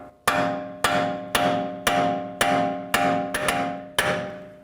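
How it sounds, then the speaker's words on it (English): Metal-on-metal ringing strikes come from a punch tapped against a BMW X3 front axle to free it from the wheel hub. About nine sharp, evenly spaced clangs sound up close, each decaying before the next. "Just give the axle a tap, try to break it free from the hub."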